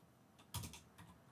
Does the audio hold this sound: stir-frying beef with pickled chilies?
no